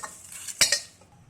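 Roasted spices such as bay leaves being transferred into a dish with a metal utensil, with a couple of sharp clinks and scrapes in the middle over a soft background hiss.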